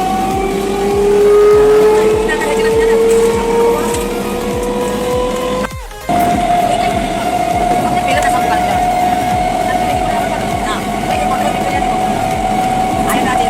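A train at Rasulpur station, a steady rumbling run with long rising and falling tonal whines, heard close, with a brief dropout midway and voices talking over it.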